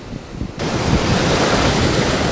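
Surf breaking on a South Padre Island beach in early spring, with steady broadband wash and wind noise that swells loudly after a quieter first half-second, no voices.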